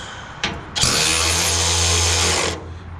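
DeWalt power drill starts after a couple of brief clicks, revving up to a loud, steady whine for nearly two seconds before spinning down; close and alone.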